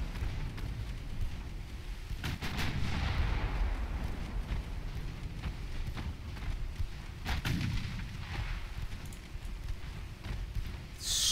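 Naval guns firing in the warship game Ultimate Admiral Dreadnoughts, with a rapid stream of dull booming shots and rumbling blasts that keep overlapping, some louder volleys standing out.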